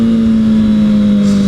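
A 2009 Kawasaki Ninja ZX-6R with a 600cc engine, close up and very loud, holding a steady high-rpm buzzing drone with no voices.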